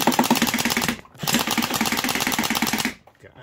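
Rapid-fire clatter from a Mini M249 gel blaster comes in two loud, close bursts of fast mechanical ticking separated by a short break, then stops abruptly.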